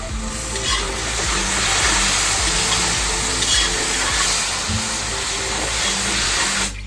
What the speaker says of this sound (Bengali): এবার দিয়ে দেব রসুন বাটা।